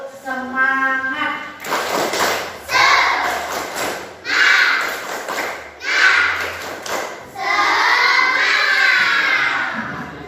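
In a classroom, a group of children perform a tepuk semangat chant, shouting in rhythmic bursts punctuated by clapping and thumps, loud and close, with a long sustained shout at the end.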